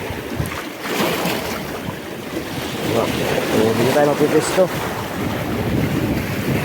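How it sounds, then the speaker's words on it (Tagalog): Rough waves slap against a small fishing boat amid steady wind noise, with a couple of people speaking briefly over the churning water. "Para malakas ang alon dito"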